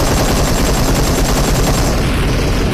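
Dense, continuous rapid gunfire from a mobile shooter video game, loud and sustained automatic bursts filling the whole stretch without pause.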